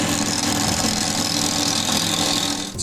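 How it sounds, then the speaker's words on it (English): Lathe running at its highest speed turning a grainless material for a .45 longslide pistol build, a loud dense continuous whirring hum held steady throughout. "I've got it set up on the highest speed of my lathe"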